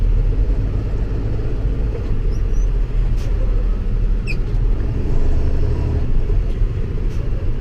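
A steady, low diesel engine rumble from inside a moving International Durastar 4300 truck with a 220-horsepower 6.7-litre Cummins engine, constant and fairly loud, with faint road noise and no talking.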